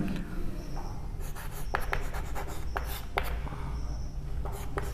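Marker or chalk writing on a board during a lesson, with scratchy strokes and squeaky taps in bursts, close up under faint room noise.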